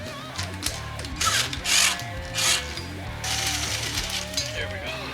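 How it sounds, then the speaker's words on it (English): A valve guide honed in a cylinder head, close rhythmic ratcheting, whirring bursts of the hone working the bore, uneven passes with brief pauses; a voice is faintly present underneath. "So I'm going to hone this a little bit."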